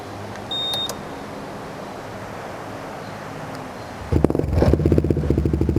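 A short electronic beep, then wind noise, followed by the deep, rumbling custom exhaust of a lowrider Honda PCX scooter idling with a steady low bassy pulse near the microphone.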